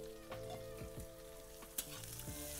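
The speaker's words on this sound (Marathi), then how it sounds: "आता हे चांगलं परतून घ्यायचं." Chopped green chilli and onion frying in a pan give a steady, soft sizzle, with a few scrapes and stirring clinks partway through.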